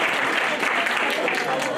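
Audience applause fills the space for learners at a readathon competition, a steady dense wash of many hands clapping throughout, loud and continuous with no pauses.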